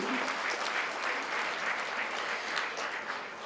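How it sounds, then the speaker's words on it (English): Steady, full applause from the audience at a Greek gastronomy fundraising event in Montreal, a continuous dense wash of clapping from a crowd. "a round of applause for Julie"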